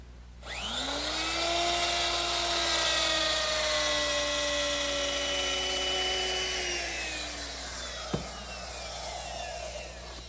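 A wood router fitted with a straight template bit, bearing following a template, cuts out a tray-table opening in a workshop: a loud, steady high-pitched whine lasting several seconds, its pitch sliding slightly, then winding down with a sharp click.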